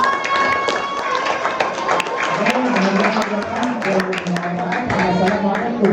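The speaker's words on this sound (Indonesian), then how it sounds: "Tepuk tangan buat kita semua." Audience clapping at an Indonesian foundation's New Year prayer and charity gathering, a crowd applauding for several seconds under a sustained tone and other voices.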